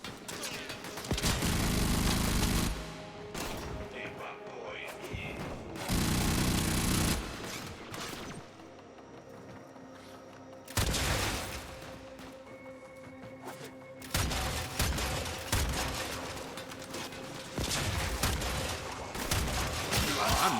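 Dense Warframe gunfire in bursts of heavy, sustained shooting, loud and continuous with brief lulls between volleys, no talk over it.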